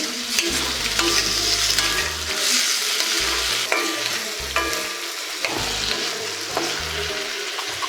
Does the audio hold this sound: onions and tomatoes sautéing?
yes